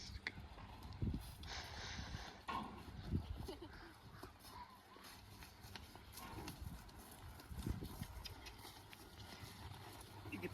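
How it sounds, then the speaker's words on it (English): Draft horses walk on a summer day, their hooves clip-clopping in an irregular rhythm at a low level, with soft voices and outdoor background noise around them. "we'll walk the horses out there"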